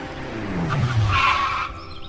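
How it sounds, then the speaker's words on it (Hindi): A manager's car comes racing in and skids to a halt, tires squealing over a rumbling engine for about a second before the noise fades. "ये मैनेजर साहब की गाड़ी इतनी जल्दी क्यों आई है?"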